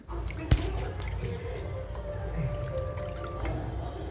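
Vegetables being rinsed in a basin of water at home, with steady wet sloshing and dripping throughout and one sharp splash or knock near the start.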